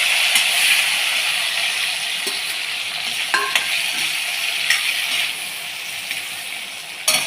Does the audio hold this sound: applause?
no